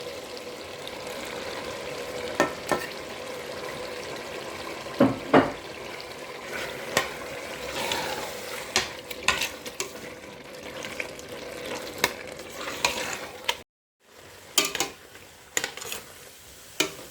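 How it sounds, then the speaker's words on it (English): Tomato and meat sizzle steadily in a pan, with occasional scrapes and clinks of a utensil stirring, and a brief pause near the end. "I'll be frying the tomato with my meat together."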